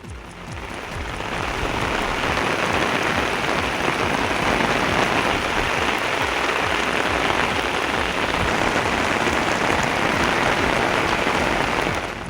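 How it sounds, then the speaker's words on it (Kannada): Heavy rain during a thunderstorm in Hubballi, a dense, steady, loud hiss of drops pouring onto surfaces for the whole stretch, with no voices. "ಹುಬ್ಬಳ್ಳಿ ಮತ್ತು ಸುತ್ತಮುತ್ತಲಿನ ಪ್ರದೇಶದಲ್ಲಿ ಗುಡುಗು ಸಹಿತ ಮಳೆಯಾಗಿದೆ."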